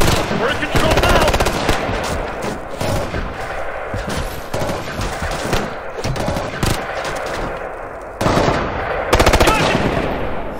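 Rapid automatic assault rifle fire in the video game Ghost Recon Future Soldier, loud bursts running through nearly the whole stretch with brief gaps, heavier volleys near the end.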